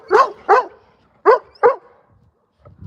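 A puppy barks sharply and close by, four yaps in two quick pairs separated by a short pause, followed by a soft, faint whimper.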